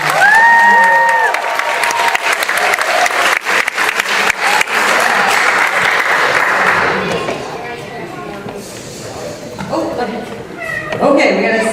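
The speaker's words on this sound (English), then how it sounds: "them a very warm round of applause" Warm applause from an audience at a school recognition ceremony, loud and dense at first with voices cheering, then thinning toward the end as talk and a few scattered claps remain.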